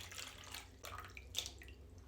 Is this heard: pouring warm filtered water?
yes